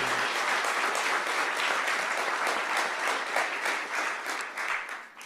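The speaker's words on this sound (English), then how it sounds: "let's give them a round of applause for their support as well." Sustained audience applause at a defense research center announcement, a dense steady wash of many hands clapping at fairly even loudness before tapering off near the end, with no talk over it.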